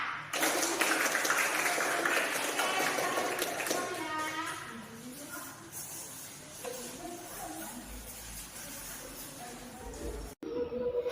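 Students in a classroom burst into long continuous clapping, a dense loud wash of many hands that gradually thins and fades over several seconds while voices chatter underneath.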